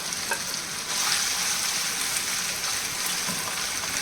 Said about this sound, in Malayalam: എണ്ണ ചൂടായിന് ഇനി ചെറിയ പാനിൽ ചെമ്മീനിടാം